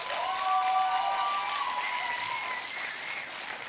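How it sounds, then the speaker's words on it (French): A comedy show audience applauds in a small bar, a steady wash of clapping at moderate distance that holds for several seconds, with faint whistle-like tones riding over it. "On applaudit Mélanie, tout le monde, en passant"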